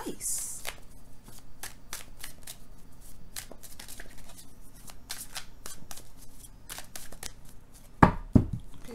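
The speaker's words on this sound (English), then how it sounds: "Get one good shuffle in there." Tarot cards shuffled by hand, a run of quick riffling flicks and soft slaps repeating close up for several seconds, ending in a couple of louder taps and knocks as the deck is squared.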